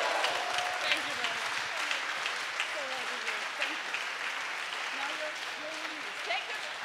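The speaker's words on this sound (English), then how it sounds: "give him another round of warm applause" Warm audience applause fills an awards ceremony, dense steady clapping throughout with a voice speaking over it.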